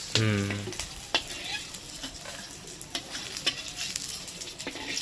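Potatoes frying in hot oil while cooking rui fish kalia, a steady crackling sizzle throughout with a few sharper pops, close and fairly loud after a brief voice at the start.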